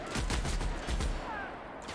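Rapid gunfire from a firefight in the video game The Outer Worlds, with a string of loud, repeated shots pounding close by through the first second before easing into a quieter background.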